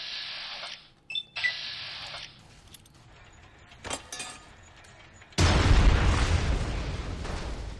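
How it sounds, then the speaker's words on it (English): A large explosion in the video game Fallout New Vegas erupts suddenly as a loud, close blast and turns into a sustained roar. Before it come sparse clicks and beeps from the game. "that was a bigger explosion than I thought I was gonna get out of that"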